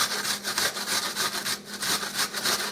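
An onion rasping against a box grater in a kitchen, steady rhythmic back-and-forth scraping strokes, close and fairly loud, with no talking.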